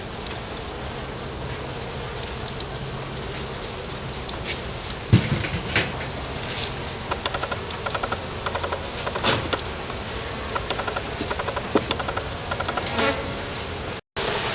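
A weak honeybee hive open for inspection in September, its agitated bees buzzing steadily and densely close by, with small knocks and rustles scattered through the hum and a brief dropout near the end.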